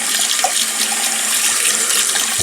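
Tap water runs steadily and loudly in a continuous rushing stream while a OneBlade shaver blade is rinsed, with no talking.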